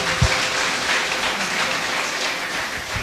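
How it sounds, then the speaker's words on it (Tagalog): A church audience at a praise and worship chorale presentation bursts into sustained applause, a dense, steady wash of many hands clapping at once with no break. "Palakpakan po natin siya ulit."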